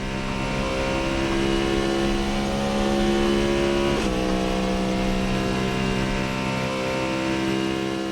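Cadillac V-Series.R race car in the Assetto Corsa racing game, its engine droning loud and steady near the listener, with a quick upshift into second gear partway through before the pull resumes.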